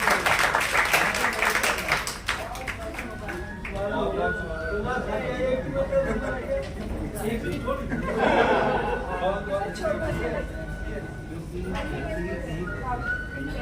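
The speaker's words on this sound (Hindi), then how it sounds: "तालियां बजा के एक बार इनका स्वागत है।" An audience at a Sanmati Foundation ceremony in Delhi honouring students claps in a loud burst at the start, then the applause thins under ongoing chatter and talk.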